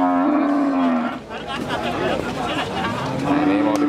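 A cow moos loudly and close, a long low call, then moos again after a pause while people chatter in the background at a cattle sale yard.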